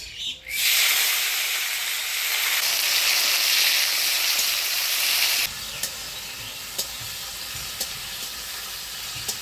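Whole garam masala, bay leaves and dried chillies tempering in hot oil give a loud, steady sizzle that suddenly drops to a quieter crackle partway through, with a few sharp spits and pops near the end.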